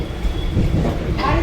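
Inside a moving local train, a continuous low rumble of wheels and carriage rolls on, with rising rattles and a faint squeal near the end.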